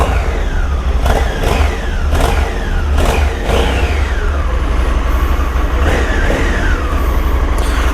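2020 Honda Africa Twin motorcycle with manual gearbox out on a ride, its engine revving up repeatedly through rising and falling surges, loud and close over steady wind and road rumble.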